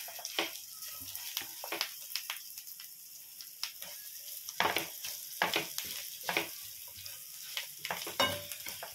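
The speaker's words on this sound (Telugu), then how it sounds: "దీంట్లో మన గార్నిష్కి పైనుంచి కొత్తిమీర వేసుకొని కొంచెం కలుపుకొని దించేస్తే సరిపోతుంది." Chicken fry with a coriander garnish being stirred in a pan, a low sizzle broken by frequent irregular scrapes and clacks of the spatula, close and fairly quiet, no talking.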